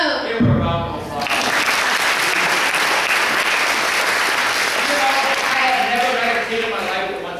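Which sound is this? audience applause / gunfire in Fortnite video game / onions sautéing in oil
audience applause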